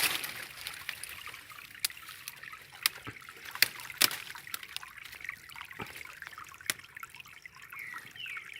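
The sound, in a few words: water flowing from a mountain spring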